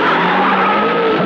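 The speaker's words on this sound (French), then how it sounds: "Les moteurs tournent, tous sont en place, ils vont s'envoler vers la gloire ou la mort." A film's race car engines roar loudly while tires skid and squeal in one continuous, close burst lasting just over a second, with no talk.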